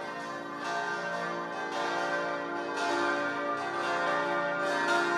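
Church bells ring in a sustained, resonant peal, overlapping tones swelling in steady rhythmic strokes at moderate loudness, with no talk.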